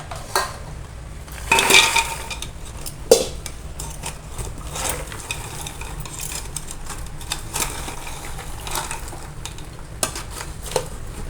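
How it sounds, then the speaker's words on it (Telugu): Gavvalu sweets tossed through sugar syrup in a pan, with metallic scrapes and clinks of a utensil, one louder clatter near the start and a sharp knock after, then quieter steady stirring scrapes close by. "ఇలా పాకం బాగా పట్టేట్టుగా గవ్వలన్నీ ఇలా కలుపుకోవాలి ఫ్రెండ్స్."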